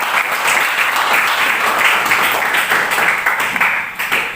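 Students in a vocational high school classroom applauding together, loud continuous clapping that holds steady throughout with no talk over it.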